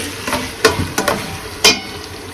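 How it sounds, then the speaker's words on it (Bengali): A spoon stirs spiced meat frying in a pot: a few sharp scraping clacks over a steady soft sizzle, close and fairly loud, with no talking. "এই যে এখন মাংসটা কষানোর জন্য মশলাটাকে আগে কষায় নিতে হবে"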